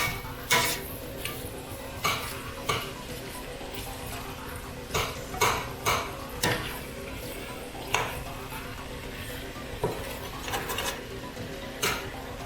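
Ground pork and bacon chili stirred in a pot, a spoon repeatedly clinking and scraping against the metal every second or so over a soft background sizzle.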